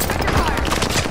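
Gunfire in a battle royale video game as a downed player is shot: a dense, continuous burst of rapid shots fills the whole short moment, loud and close, with no pause.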